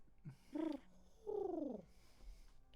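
A person imitates a pigeon with two soft, rolling coos, each about half a second long, quiet and close, with a short gap between them.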